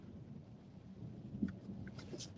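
Thunder rumbling low and distant during a severe Oklahoma thunderstorm, a soft continuous roll with one slightly stronger swell, faint and without voices.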